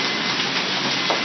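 Hail pelting down during a Baltimore storm, a dense, steady broadband hiss of stones striking surfaces, loud and close with no pauses or voices.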